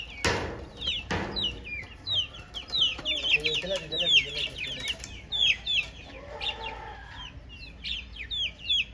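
Hens, roosters and young chicks at a poultry seller in Nellore cluck and peep in a busy, irregular chorus, with a couple of sharp knocks near the start and faint voices in the background.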